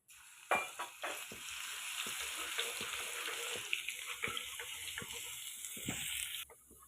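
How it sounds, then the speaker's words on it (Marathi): Garlic paste dropped into hot oil with cumin and mustard seeds in a kadhai, bursting into a steady close sizzle with stirring scrapes and clicks, then cutting off abruptly near the end. "त्यामध्ये टाकूया लसूणची पेस्ट"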